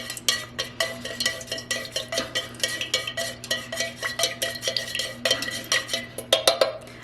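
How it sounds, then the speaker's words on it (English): Small batch of beeswax-free lip balm mixture with peppermint essential oil stirred briskly in a small container, a fast steady run of light clinking, scraping strokes close up, about six per second, with no voices. "I'm gonna mix that up real quick"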